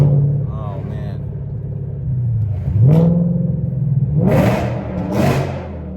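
A 1200hp supercharged Ford Mustang Dark Horse with a Tremec manual gearbox rumbles low, then its engine note swells and climbs in a couple of revs, with someone talking excitedly over the drone.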